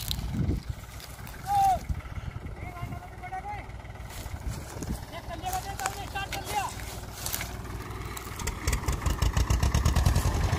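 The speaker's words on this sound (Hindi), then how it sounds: "आज जो है महिंद्रा 265 आ गया हमारे वाला और ये लगाएगा अब ताकत" Mahindra 265 DI tractor engine labouring to pull a sugarcane trolley stuck in a wet field, a steady low diesel rumble that swells louder toward the end, with people talking and shouting over it.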